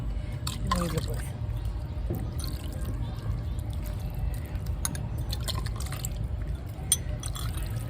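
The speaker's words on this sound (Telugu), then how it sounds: "నీళ్ళు పోసి" Water poured over soil in a pot where dahlia seeds have been sown gives soft trickling and dripping, close and fairly quiet, with a low background hum and scattered light clicks.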